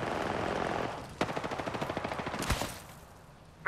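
Rapid automatic weapon fire in the video game Apex Legends, a burst of evenly spaced sharp shots lasting a couple of seconds, loud and close, with a few heavier blasts around it.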